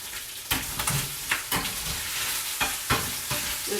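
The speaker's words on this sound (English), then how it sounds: "Just flipping my bacon." Bacon sizzles in a pan with a steady crackling hiss while a spatula flips the strips, adding sharp scraping clacks at irregular intervals, close by and without voices.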